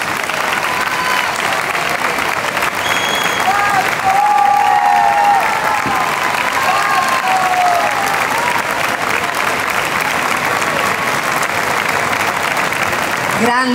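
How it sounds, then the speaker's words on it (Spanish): An audience at a Canarian wrestling (lucha canaria) tribute in La Laguna, Canary Islands, gives a long, steady round of applause, with a few faint cheers rising above the dense clapping. "un caluroso, calurosísimo aplauso para Lolo Gutiérrez"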